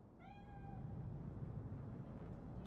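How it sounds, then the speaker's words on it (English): A cat meows once inside the game Cyberpunk 2077, a single drawn-out, rising and falling call near the start, set over a steady low ambient hum with no talk. "Chill, just a cat."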